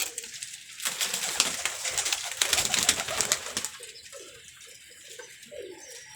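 Red-eyed pigeons held for sale coo softly in short, repeated phrases, heard close by. Bright rustling and clatter, like wings or cage movement, fill the opening seconds before the cooing stands out.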